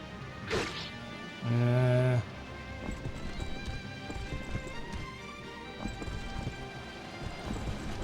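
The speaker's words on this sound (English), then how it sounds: "Man, how many horses are there?" Horse hooves clop in the video game Fire Emblem: Path of Radiance, a steady game sound effect with a brief neigh-like tone early on, running under someone talking.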